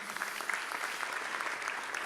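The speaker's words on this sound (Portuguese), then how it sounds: "Uma salva de palmas para o João e a Gi." Applause at a church service: a congregation claps in a steady, even patter of many hands, moderately loud and continuous throughout.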